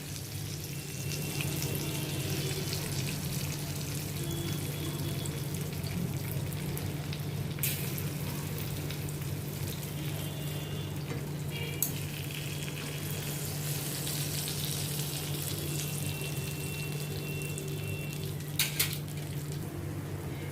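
Masala-stuffed chillies fry on a low flame with a steady, soft sizzle of oil that runs unbroken, with a few faint clinks and no talking.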